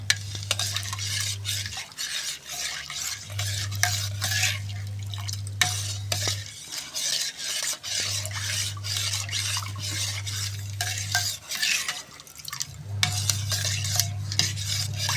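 A spoon stirs amla (Indian gooseberry) juice mixed with dry ginger powder, chaat masala, mint and jaggery, making repeated close scraping and clinking strokes against the vessel, with a low electrical hum cutting in and out underneath.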